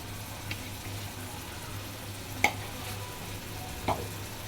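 Rohu fish masala with coriander powder and salt sizzles and fries in oil in a pan, with a steady low crackle broken by a few sharp scrapes of stirring, close and fairly quiet, with no talking.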